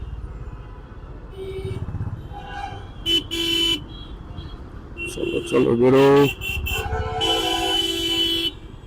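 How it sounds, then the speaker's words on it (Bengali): Car horns honk repeatedly amid traffic noise, a few short toots and a longer blast, with a person speaking briefly. "হর্ন মারতেই হবে, কিচ্ছু করার নেই"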